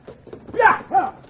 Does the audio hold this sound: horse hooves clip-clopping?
yes